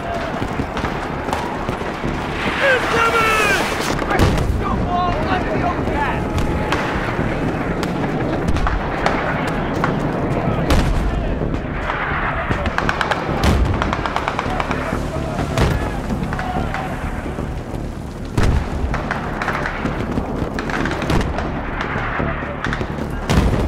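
Continuous battle din in the video game Battlefield 3, with repeated heavy thuds of mortar fire and other blasts over dense gunfire and rumble, loud throughout, with shouted voices mixed in.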